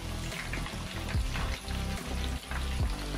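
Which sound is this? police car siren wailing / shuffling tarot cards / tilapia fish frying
tilapia fish frying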